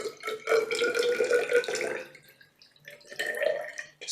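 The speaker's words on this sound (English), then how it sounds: "So I'm just going to pour some of this into here," Salt water dyed red is poured into a container for a brine column demonstration, a short splashing trickle that pauses and then resumes briefly, heard close and alone.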